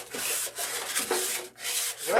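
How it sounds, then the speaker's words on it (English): Sandpaper scrubs in back-and-forth strokes over the metal base of a holiday centerpiece, a steady close rasping in bursts separated by short pauses. "I like to take some sandpaper on the metal"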